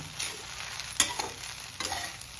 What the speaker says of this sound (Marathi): तर याला आपण आता मिक्स करून घेऊया